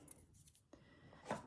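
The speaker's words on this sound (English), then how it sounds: "Scissors." Scissors snip through paper for a junk journal craft project, a quiet crisp cut near the microphone with soft rustling around it, no talk.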